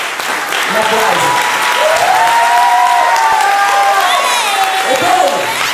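Audience applause and some cheering fill a concert hall at a charity music evening, loud and continuous throughout, with a voice announcing over it and a tonal music or feedback line running underneath.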